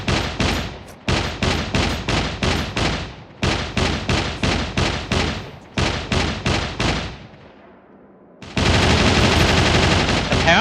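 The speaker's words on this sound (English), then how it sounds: "And they are shooting right here." Gunfire in the survival game SCUM comes as loud, close bursts of rapid automatic shots with a brief lull before a harsh, sustained roar of sound.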